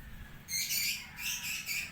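A bird calls in a few quick, high, chirping bursts, fairly faint and alone against quiet background noise.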